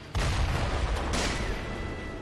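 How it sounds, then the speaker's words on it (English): Cannon fire from an enemy in the video game Sekiro: Shadows Die Twice, a sudden loud boom followed by a rumbling blast tail and a second burst a moment later. "this guy has a cannon"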